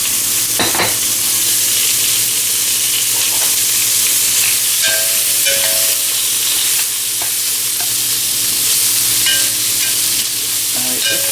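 Onions sauté in a pan, salted and beginning to brown, giving a loud, continuous close sizzle with repeated stirring scrapes and a few tinny spoon knocks throughout.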